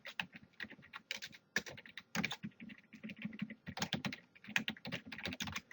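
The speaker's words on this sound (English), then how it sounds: "Let me type that out." Quick, uneven clatter of keys on a computer keyboard, close and clear, coming in irregular bursts with brief pauses and no talking.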